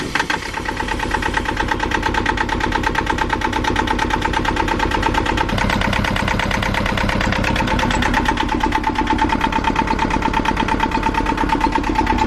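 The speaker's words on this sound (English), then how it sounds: "So, Sierra, you want to start the motor? Get ready to stop if I say." A boat motor with a temporary exhaust tube fitted runs steadily at a loud, constant idle for the whole stretch, with a buzzy rhythmic throb and no talk over it.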